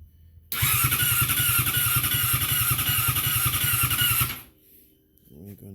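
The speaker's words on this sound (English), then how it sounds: "the bike was just cranking" A 2012 Yamaha R6 motorcycle engine cranks over on the starter in a loud, steady, rapid rhythm for about four seconds without catching, then stops, leaving a brief quiet with a faint voice.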